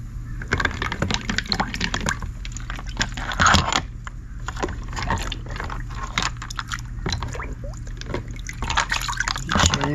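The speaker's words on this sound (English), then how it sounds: "we'll dump the liquid out of them. Drop them in the neutralizer." Liquid is poured out of collected seashells, which are then dropped into a neutralizer: irregular drips, splashes and pouring over a steady low hum, with a louder gush midway and no talking.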